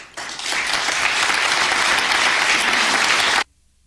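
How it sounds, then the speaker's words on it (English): A crowd at a speech breaks into applause, a steady, dense burst of clapping lasting about three seconds before cutting off abruptly into near silence. "And then they start clapping."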